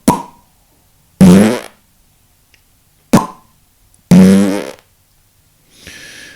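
A didgeridoo played with the kiss technique gives short, loud, buzzing lip bursts, four in all with silence between them, followed by a softer, fainter tone at the end.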